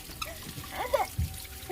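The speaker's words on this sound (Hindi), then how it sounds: "तो यहाँ पे पानी भर रही हूँ" Water trickles and splashes from a household tap into containers being filled, a close, uneven gurgle with a brief splash near the end.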